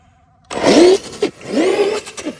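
A Traxxas Slash 2WD RC truck on large belted paddle tires whines up sharply in two bursts of acceleration, each rising in pitch then cutting off, loud and close after a quiet start.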